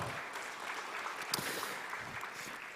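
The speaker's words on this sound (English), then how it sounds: "Ladies and gentlemen, one more round of applause" Brief applause from an audience at a corporate open day panel discussion, a steady, moderately distant wash of clapping for a panelist, lasting under three seconds.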